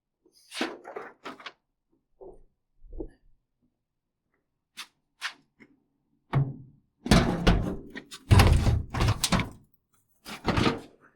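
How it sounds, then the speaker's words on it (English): A drawer on a Harbor Freight side locker tool box is pulled open in a garage setting, giving scattered metallic thunks and clicks, then a louder cluster of sliding rattles and knocks near the end. "I open this all the way up. Let me get that drawer."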